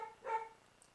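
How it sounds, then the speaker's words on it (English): A single short dog bark, faint and somewhat distant, with a slight whining tone, alone in a quiet room. "He's barking."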